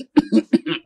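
A man coughs in a rural village drama setting: four harsh, throaty bursts in quick succession, close and loud, separated by brief silences.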